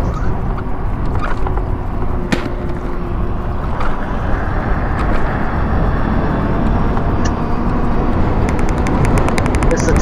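Constant loud roaring hum of a 2020 Daymak Pithog Max e-bike's rear tire on pavement while riding, steady and dense for the whole stretch, with wind rush and no talk.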